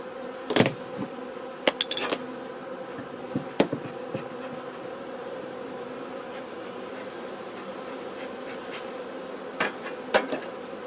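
Honeybees buzz as a steady, close drone at an opened beehive in a cellar-wintering test, with occasional sharp knocks and clicks from handling the hive.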